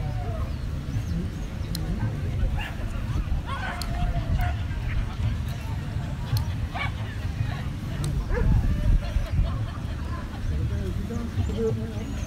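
Police K9 dog barking repeatedly during a demonstration, sharp yips and barks over a busy crowd murmur and handler chatter, with a louder burst of barking near the end.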